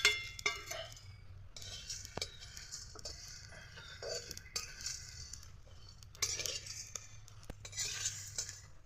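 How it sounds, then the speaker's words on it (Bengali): Whole coriander, cumin, fennel, black pepper, cloves and cardamom dry-roasting in a pan, stirred with a utensil that scrapes and clinks against the metal in scattered bursts under a steady low background hum. "মশলাগুলো ভালোভাবে ভেজে নিলাম"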